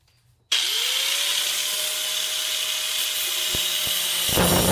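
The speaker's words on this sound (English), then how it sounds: "so I'm just going to grind that down." Steady, loud grinding of a railroad spike being shaped into a karambit blade, a continuous abrasive whine that holds for several seconds after a sudden start, with a couple of brief clicks near the end.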